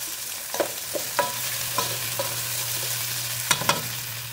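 Tomatoes are mashed in a simmering pot of pompano sinigang with tamarind and taro, giving a run of soft scattered taps and clinks over a low, steady bubbling hum.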